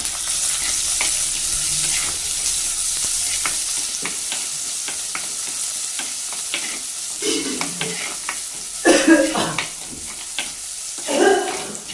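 A ladle stirs and sautés curry leaves and a green chilli in a pan for a village fish curry, with a steady sizzle and scraping stirs running throughout. A few louder clattering strokes come near the end.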